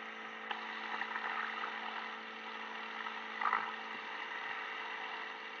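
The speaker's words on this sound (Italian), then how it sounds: "allora riduciamo un po' il motore" Engine of a P2002 light aircraft throttled back in flight, a steady, quiet droning hum with a constant whir, heard from inside the cabin, with a brief slight swell midway.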